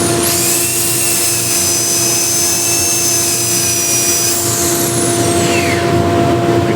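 A power sander with a 180 grit pad works a walnut or cherry wood plate, giving a loud, steady whine and hum with a continuous rushing drone and shifting high tones.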